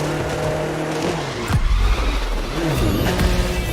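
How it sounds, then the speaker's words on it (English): Race car crossing the finish line in the racing game The Crew 2, a loud steady engine roar with tyre squeal and a brief skid sweep midway, game sound effects layered over it. "crossing the finish line in the open beta for the Crew 2"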